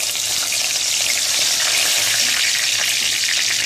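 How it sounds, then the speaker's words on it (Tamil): Steady, loud sizzling of fennel seeds and curry leaves frying in hot oil, a continuous crackling hiss with no talk. "சோம்பு பொரிஞ்ச உடனே நாம எடுத்து வச்சிருக்கிற கருவேப்பிலைய சேர்த்துக்கலாம்"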